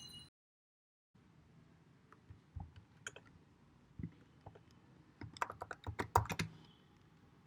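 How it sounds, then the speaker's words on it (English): Typing on a computer keyboard while entering C++ code, sparse single key clicks at first, then a quicker close burst of clacking keystrokes near the end. "you just have to type"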